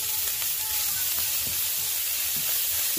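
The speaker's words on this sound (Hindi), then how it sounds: "फ्राई करनी है हमें इसको, पालक को फ्राई करना है।" Spinach frying in a pan with onion and green chili, a steady loud sizzle and hiss heard up close, with a few faint stirring knocks underneath.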